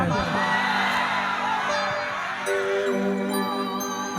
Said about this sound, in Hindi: ऐसे चिल्लाना है टूरी कान फट जाएगा